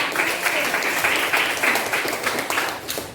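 Classroom of students applauding together during a lesson, a dense, steady patter of many hands clapping close by that carries evenly throughout and tapers slightly at the end.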